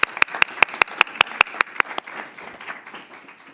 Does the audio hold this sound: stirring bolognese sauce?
no